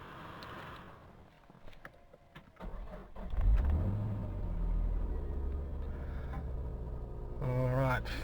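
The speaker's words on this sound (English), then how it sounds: "first thing in fact that I can hear is a bit of noise from the timing belt, which is not an uncommon issue with the RB engines" Engine of an imported car with an RB engine cranking over and settling into a steady low idle, with faint noise from the timing belt; the rumble sits under a voice at first, then runs on its own.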